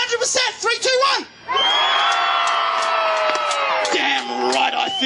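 A crowd at a medieval fair in Doonside cheers at full volume, a sustained roar of yells and whoops after a few shouted words from an announcer, loud and close.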